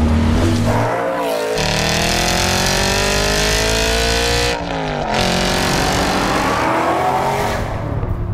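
An Aston Martin Vantage GT8 engine roars loudly while driving, revs rising steadily through a gear, a brief lift with a crackle, then climbing again in a sustained, close, throaty howl.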